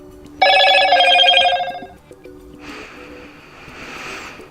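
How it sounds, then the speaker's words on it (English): Motorola phone notification sound, a bright electronic chime tone lasting about a second, then a softer buzzing tone with a second repeat, close and clear. "a phone will be spamming us with notification sound"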